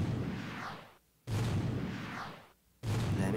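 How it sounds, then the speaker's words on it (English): Missile strikes boom across cities in the strategy game World Conqueror 4, in two long rumbling blasts that each swell and fade, with a short silence between them and a third hit starting at the end. "now Australia is gonna get decimated by the missiles"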